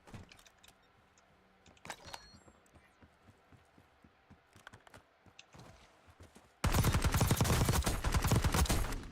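Model L SMG gunfire in Warzone solo play: scattered distant shots and bursts over quiet game ambience, then a sudden loud, sustained close-range automatic burst over the last couple of seconds, with no talk.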